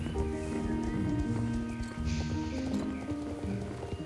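Pony hooves clip-clop steadily on a path in a fantasy riding game, a regular trotting rhythm under faint game music and ambience.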